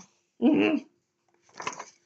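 A dog yaps twice, close by, two short bursts about a second apart; it barks at every passing car.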